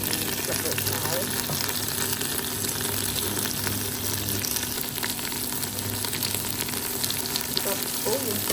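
Chicken curry with kaffir lime leaves sizzling and being stirred in a pan, Cambodian style. A steady, close frying hiss runs throughout with faint scraping from the stirring.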